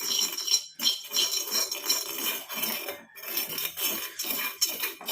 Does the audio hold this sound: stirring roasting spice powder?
yes